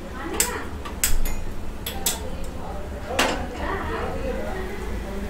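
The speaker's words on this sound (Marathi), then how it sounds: "आता गॅसवरती आपण ठेवलेला आहे भांडा" A metal cooking pot clanks several times as it is set down on a gas stove while Konkan-style fish curry is being made, with sharp bright knocks over a steady low kitchen hum.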